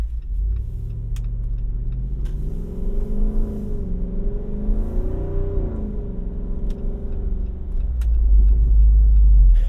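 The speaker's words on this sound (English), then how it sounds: "You can hear the pops and burbles from the exhaust." A 2024 Jeep Wrangler Rubicon 392's V8 rumbles steadily with a throaty exhaust note, rising briefly in revs, with occasional faint pops and crackles over the low drone.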